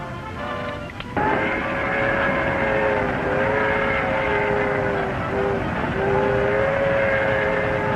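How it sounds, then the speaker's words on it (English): A train rumbles steadily nearby while a long whistle sounds, holding and wavering over the continuous rolling noise. "The train is due now."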